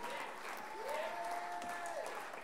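A concert audience applauds steadily after a piano and guitar performance, with a sustained musical tone ringing briefly through the middle of the clapping.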